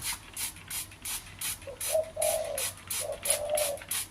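A spotted dove, likely an escaped or released cage bird, gives a few soft low cooing notes close by, set against a steady background hiss in an outdoor setting.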